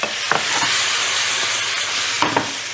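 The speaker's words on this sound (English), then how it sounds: "I just want to get the mushrooms a little bit more cooked." Mushrooms and vegetables sizzle steadily in a hot pan for a salmon with garlic vegetables dish, a constant close frying hiss with a few stirring scrapes near the start and end.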